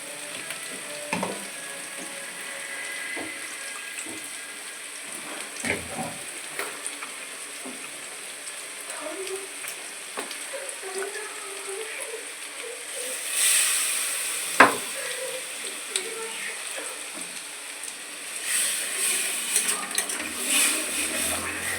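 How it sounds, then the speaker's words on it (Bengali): Kofta balls frying in hot oil, a steady broad sizzle with scattered crackles and a few sharp pops, louder bursts near the end as pieces are turned or added. "কোপ্তা ভাজা হচ্ছে"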